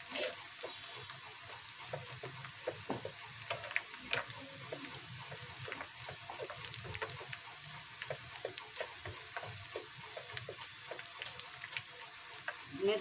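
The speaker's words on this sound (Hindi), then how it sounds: "एक तरफ हमारी प्याज ब्राउन हो रही थी" Three medium onions fry and brown in a pan for chicken angara, a quiet continuous sizzle dotted with small pops and crackles, faint and even throughout.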